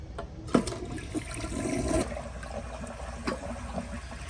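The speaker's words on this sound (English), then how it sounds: "So here is a flush on an overfilled tank." A 1991 Kilgore Aladdin toilet with an overfilled tank flushes in a steady rushing gurgle of water, with a sharp splash early on and a long, unsteady churning that carries on throughout.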